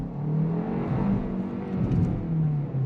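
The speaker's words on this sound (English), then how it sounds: "Let's do another quick acceleration, because even though this thing's not the quickest thing, it's very, very addictive to just drive it." A 2024 Hyundai Kona N Line engine under quick acceleration, its steady, loud drone rising in pitch and pulling hard for the full stretch with no talking over it.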